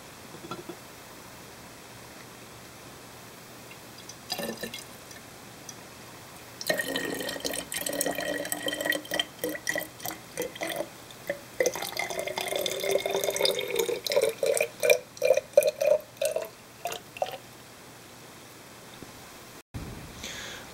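Hot salt water solution is poured into a glass Leyden jar, starting as light trickles and building into a sustained splashing, gurgling flow, close by, before stopping abruptly.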